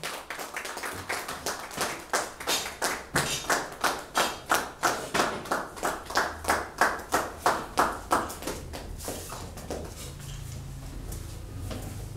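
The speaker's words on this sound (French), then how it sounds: "On applaudit très fort!" An audience at a political party's investiture ceremony claps in unison with a steady, rhythmic beat for several seconds, then the clapping loosens and fades into a softer, scattered patter.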